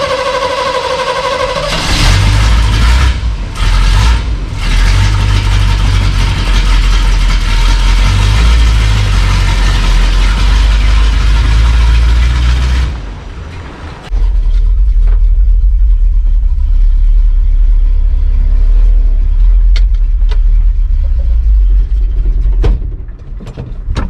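An old off-road recovery tow truck engine, loud and close, with deep low-frequency rumbling and revving as it drives, dipping briefly around the middle before settling into a steady heavy drone.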